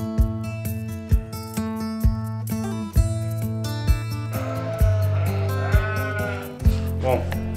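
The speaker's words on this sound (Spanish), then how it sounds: "Llegan las ovejas de mañana temprano" Sheep bleat at a dairy farm in the hills of Maldonado, Uruguay, that makes shepherd's cheese. The close, loud, repeated wavering calls overlap one another over a low rhythmic thumping.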